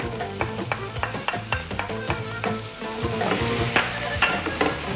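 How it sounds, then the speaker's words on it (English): Onions and garlic sauté lightly in a pan with a steady sizzle, broken by repeated sharp scrapes and taps of a utensil stirring them, close and fairly loud. "We're not going to brown or caramelize the onions, we're just going to lightly saute it."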